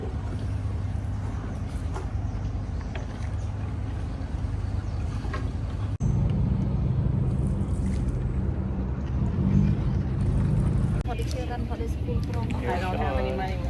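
A small motorboat carries passengers through a mangrove forest near Siem Reap, its engine a steady low drone with water wash throughout while a person talks over it.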